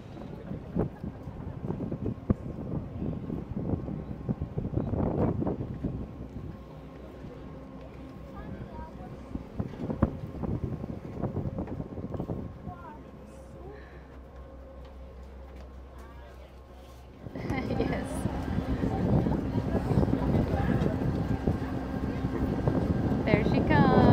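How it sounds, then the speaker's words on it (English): A ferry boat motor near Cancún drones amid gusting wind noise, the engine swelling louder toward the end, with people talking nearby at times. "That's the boat that's going to take us to Isla Mujeres."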